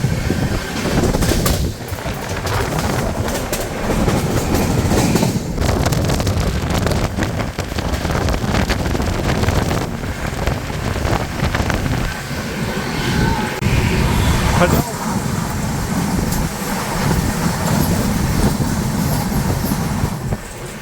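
Khajuraho Vande Bharat Express passing at 130 km/h on a crossing, heard from an adjacent moving train as a sustained loud roar with rhythmic clickety-clack and wind buffeting throughout.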